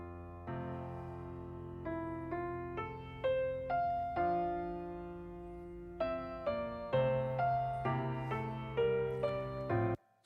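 Schumann's Träumerei played mechanically on piano, strictly in time with no expression or rubato; sustained chords and a melody line ring out steadily, moderately loud and alone.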